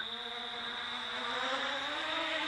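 An Arducopter quadcopter's motors whine at full throttle, a steady high-pitched buzzing drone with strong tonal harmonics, close and continuous, slightly rising in loudness.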